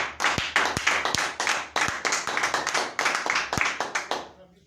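A church congregation claps in praise, loud, close, rapid hand claps in an uneven rhythm lasting several seconds before cutting off.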